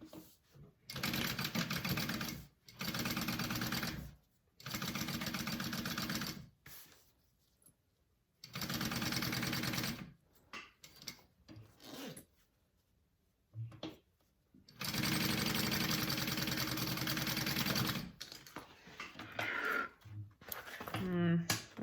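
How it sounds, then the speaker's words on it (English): A home sewing machine runs a quarter-inch seam along the top of a fabric shoulder bag in several loud, close bursts of rapid mechanical stitching, separated by pauses where someone talks quietly. "we are gonna sew along the top of this at a 1/4 inch"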